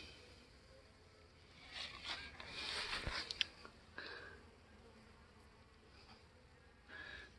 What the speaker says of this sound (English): Bees flying.